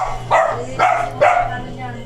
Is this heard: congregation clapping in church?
no